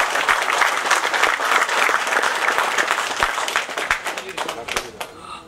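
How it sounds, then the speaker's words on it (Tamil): Loud, enthusiastic crowd applause at a film trailer launch event in a hall, sustained many-handed clapping with a few sharper individual claps standing out before it gradually thins toward the end. "பலத்த கரகோஷம்னு சொல்கிறேன்."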